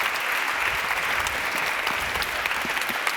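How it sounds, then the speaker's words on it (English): Audience applause for a Lufthansa senior first officer at a talk, a dense steady wash of clapping from a large crowd, close and even throughout with no voices over it. "Bigger applause, please."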